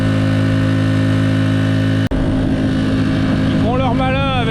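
A small moped engine with carburetor and intake pipe trouble labors uphill in the cold: a loud, steady buzzing drone that cuts out abruptly for an instant, then resumes rougher and wavering in pitch.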